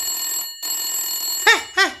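Old-style telephone bell ringing loudly on its own in a Hindi comic story, long electric rings broken by short gaps followed by two quick chirping bursts, after a police station number is dialed.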